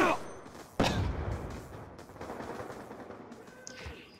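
Gunfire in Call of Duty: Black Ops 2, with one sharp, loud shot early on and then a busy wash of battle noise and scattered firing that fades and flares through the rest.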